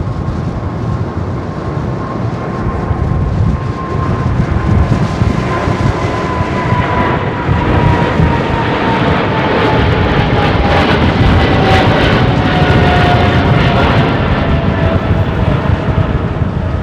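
A Singapore Airlines A380 jet takes off from runway 09R, its engines producing a loud, broad roar with a slowly falling whine that builds and holds for the full stretch, heard from nearby and free of talk.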